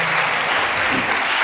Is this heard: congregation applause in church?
yes